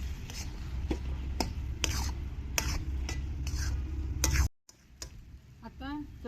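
Mashed roasted eggplant being stirred and sautéed in oil for Khandeshi bharit: scraping spoon strokes and soft frying sizzle, then a brief break, with a few faint sounds after.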